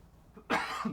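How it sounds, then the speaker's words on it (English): A single sharp cough bursts out after a brief quiet moment, close and loud, with a rough throaty tail. "I'm just coughing into the thing."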